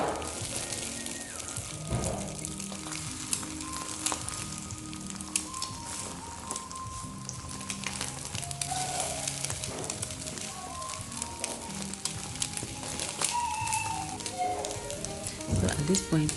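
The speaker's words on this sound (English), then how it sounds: "I'm just gonna scramble those eggs" Eggs scrambling and sizzling in a hot frying pan for beef and egg fried rice, a continuous crackling hiss with scraping and clattering of the utensil, with a person talking over it.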